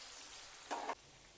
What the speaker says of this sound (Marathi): तर तेलामध्ये आता चकल्या सोडून घेऊया